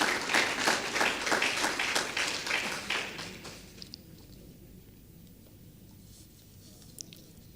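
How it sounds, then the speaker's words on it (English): Audience applause for an honoree at an awards ceremony, a dense burst of clapping that lasts about three seconds and then fades into a quiet room with a few stray claps. "Shall we put our hands together for our honoree?"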